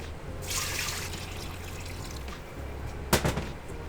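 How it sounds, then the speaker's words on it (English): Water is poured into a bowl of bread dough dry ingredients with sugar, olive oil and caraway seed. It makes a soft, steady trickling pour with a brief clunk near the end, and no one speaks. "Pour the water in."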